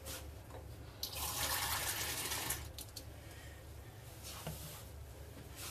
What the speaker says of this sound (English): And you put the water in slowly.